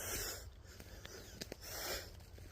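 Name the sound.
laboured wheezing breathing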